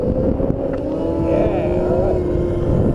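A Rawrr Mantis 72V electric dirt bike accelerates in sport mode with a steady, loud motor whine and heavy wind rush, and a rider speaks briefly over it.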